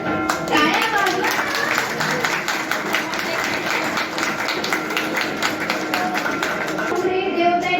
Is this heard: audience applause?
yes